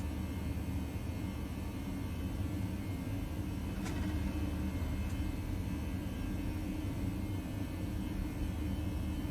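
Toliss A321 jet engines spooling at takeoff thrust in the X-Plane 11 flight simulator, a steady loud broadband roar and rumble that holds unchanged throughout, with no talk.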